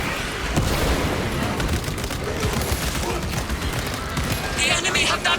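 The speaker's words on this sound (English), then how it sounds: "Deploy frag grenade." A frag grenade blast in Warhammer 40K Space Marine 2 rolls out as a dense, sustained rumble of booms and crackling debris, loud and continuous, with faint game voices underneath.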